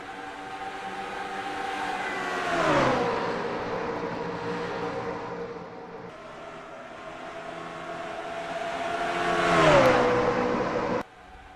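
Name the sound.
race trucks accelerating at Pocono in a racing video game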